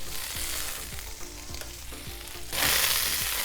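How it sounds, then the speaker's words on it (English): Vegetables sizzle and fry in butter on a flat griddle, a steady close crackle broken by several scraping strokes of a spatula, with the sizzle growing brighter and louder near the end. "Toss that in, then I'm gonna throw the veggies down and start getting them going because they will cook for a little while."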